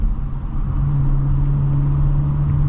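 A 2023 Audi S5 Prestige pulls hard under acceleration, a steady deep engine drone and road rumble heard from inside the cabin, continuous and fairly loud with no talking.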